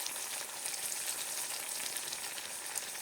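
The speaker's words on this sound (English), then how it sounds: "You see how it's frying like that? And it's only going to take a second because I can see right now it is flash frying." Native American fry bread dough sizzles steadily in hot oil, a dense, even crackle of frying at close range with no talking.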